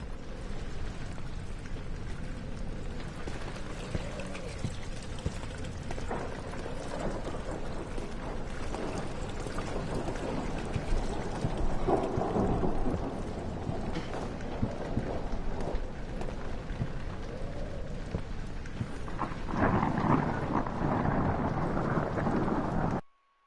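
Steady heavy rain pours throughout the Rainy Hall level of the video game Amnesia, with low rumbles of thunder rolling beneath and a louder swell near the end before cutting off abruptly.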